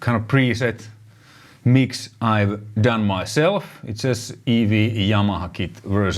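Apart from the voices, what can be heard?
None of the usual background noises is heard.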